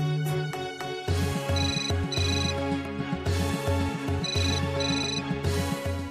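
A telephone rings in a Hindi TV serial scene, a repeating electronic ringtone melody with bright tonal bursts over a busy music bed, filling the whole stretch without talk.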